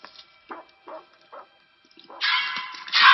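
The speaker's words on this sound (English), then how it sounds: "It's a cute dog" A dog in a horror film scene gives a few short soft yips and whimpers, then louder rough barks near the end, with quiet stretches between them.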